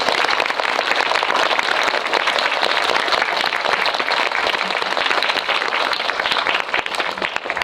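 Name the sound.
audience applause welcoming film director and actors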